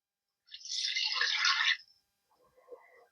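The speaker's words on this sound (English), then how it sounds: "So we're going to add in 2 cups of lukewarm milk." Lukewarm milk is poured into a bowl for white sandwich bread dough. One soft, splashy pour runs for over a second, followed by a fainter trickle.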